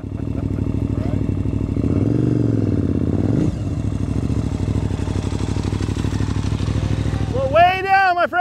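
An off-road motorcycle at a riding clinic in Colorado runs with a rough, clattering engine that rises and falls in revs. Someone talks over it, and a sharp high whine appears near the end.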